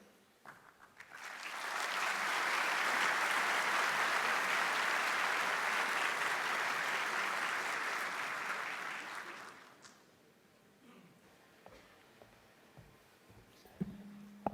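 Sustained applause from a conference audience greeting the Italian Chief of Defense, an admiral, at an aerospace power event; it builds quickly, holds steady and loud for several seconds, then dies away into quiet room noise.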